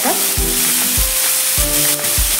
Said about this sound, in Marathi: मीडियम गॅसवरती आपण परतून घ्यायचे आहे